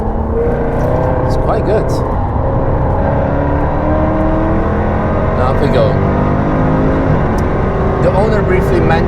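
Jaguar F-Type V8 engine roaring steadily at close range on the Nürburgring on a hot day, a continuous loud drone rising and falling with revs while someone talks over it.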